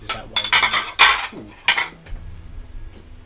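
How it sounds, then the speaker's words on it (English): Dishes and cutlery clatter and clink up close in a few loud bursts, with quieter rattles and a short spoken question near the end. "Sorry for the noise, the clatter of dishes."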